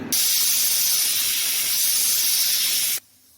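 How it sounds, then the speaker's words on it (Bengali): A pressure cooker on the stove vents a loud, steady hissing whistle of escaping steam while dalia khichuri cooks, lasting about three seconds before cutting off abruptly. "এখন সিটি দিয়ে দেব তিন থেকে চার সিটি দিলেই আমার ডালিয়া রেডি হয়ে যাবে"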